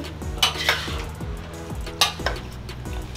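Meat being mixed with a spoon in a pot to coat it evenly in sauce, cooked as a meal for homeless people, giving repeated scraping and clinking strokes of utensil against metal over a low sizzle, with no talking.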